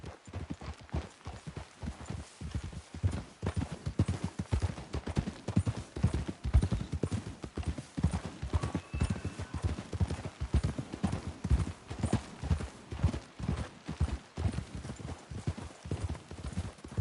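Horse hooves clip-clop steadily at a brisk trot for the whole stretch in Red Dead Redemption 2, a continuous rhythmic patter of several animals with no talking.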